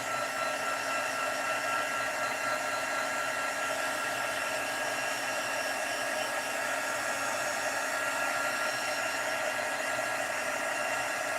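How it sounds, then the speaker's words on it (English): Heat gun warming a wood stamp, a steady, loud blowing hiss that holds unchanged for over ten seconds with no talking. "I'm going to try my heat gun on it, and I usually get some pretty good results with that."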